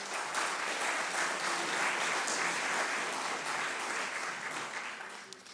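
Sustained applause from a large audience at a business awards ceremony, dense and steady throughout, tapering slightly toward the end.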